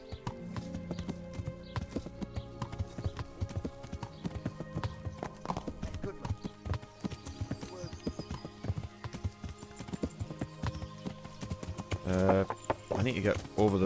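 Horse hooves clip-clopping in the video game Kingdom Come: Deliverance, a rapid steady rhythm of hoofbeats throughout with an occasional whinny, under someone talking.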